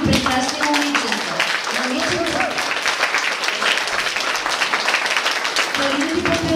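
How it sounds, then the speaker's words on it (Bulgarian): An audience at a kindergarten show gives steady, sustained applause for the little girls who performed, a dense clapping wash with voices and some cheering mixed in throughout. "Моля вашите аплодисменти за всички малки прекрасни момичета."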